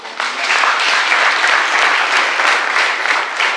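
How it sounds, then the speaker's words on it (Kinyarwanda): Sustained applause from an audience at a Boys & Girls Brigade induction ceremony for new members, steady dense clapping that fills the whole stretch without a break. "Icyo ngicyo mwaba mugikomeye amashyi rwose"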